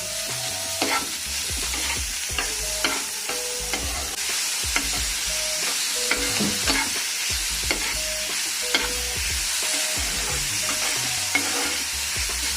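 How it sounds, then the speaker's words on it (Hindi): Beetroot and onion frying in a pan, a continuous close sizzle broken by clinking stirs and scrapes of a spoon against the pan throughout. "अब मैं इसमें बीटरूट डाल रही हूँ और बीटरूट के साथ में आपको पूरा अच्छे से दोबारा से अच्छे से दोनों मिला के फ्राई करनी है"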